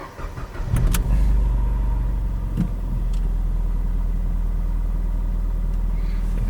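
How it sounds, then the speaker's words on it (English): A 2011 Ford Fiesta SEL engine turning over and settling into a steady, loud, close idle with a constant low rumble, briefly rising as it catches before holding an even drone. "Please run the engine and keep it idle."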